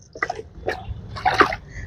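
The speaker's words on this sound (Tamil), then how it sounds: "இப்படி தண்ணியை போட்டு பாருங்கள்" Water splashes and pours into a container of salt in a few short, uneven bursts, close by over a low background hum, mixing a homemade liquid fertilizer.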